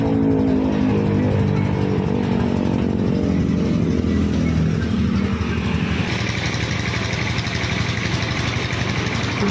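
A large bus engine runs close by, rumbling and lopsided at a rough idle, heard from the rear of the bus, with a brief rise in revs.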